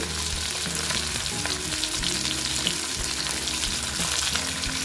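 Tilapia fish frying crisp in hot oil, a dense continuous sizzle and crackle close by, with a low steady hum underneath and no talking.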